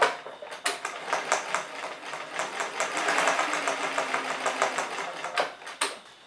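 Bernina Record 930 sewing machine running in quick bursts, a rapid mechanical whirring and ticking close up, speeding up and slowing with short pauses, no voices.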